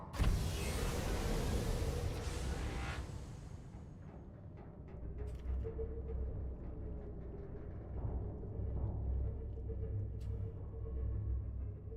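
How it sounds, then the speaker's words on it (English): A submarine engine powers up in the underwater game Subnautica, opening with a loud whooshing surge that fades into a steady low hum with faint mechanical clicks. "Engine powering up."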